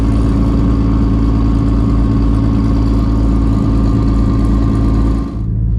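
A big-boost white Toyota Supra that runs 9-second quarter miles sits at a drag strip, its engine holding a loud, steady, close drone that dips briefly near the end.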